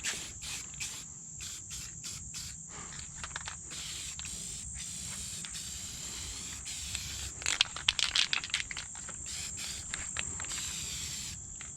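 Light first coat of spray being applied to faded plastic car trim, heard as a steady hissing spray that runs throughout in short bursts, growing louder near the middle, with no talking.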